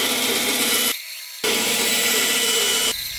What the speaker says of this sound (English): I'll do that with a bandsaw.